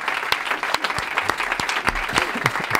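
Studio audience of a Spanish comedy talk show breaking into applause: steady, dense clapping from a crowd with a few sharper individual claps, continuous throughout.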